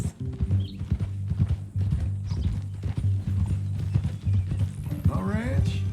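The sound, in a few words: horse walking with hoofbeats in Red Dead Redemption 2 video game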